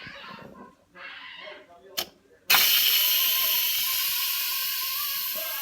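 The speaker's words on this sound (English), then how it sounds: "I'm going to move the steam release button over here and let the rest come out" Instant Pot pressure cooker venting its remaining steam after a natural release: a sudden loud, steady hiss bursts out and holds for several seconds, slowly easing, after a mechanical click of the release valve and some quiet talk.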